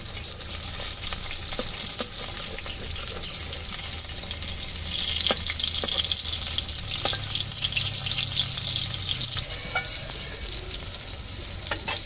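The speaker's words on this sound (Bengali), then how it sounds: "এখন আমি এই পাশটা ভালো করে ভেজে নেব।" Crab-shaped pitha frying in hot oil, a steady close sizzle running the whole time with occasional soft clinks and stirring, no voices.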